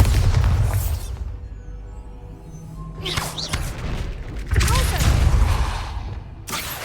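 A Bombarda explosion spell in Hogwarts Legacy lands as heavy booming thuds with whooshing debris, two loud bursts separated by a quieter stretch with faint game sounds.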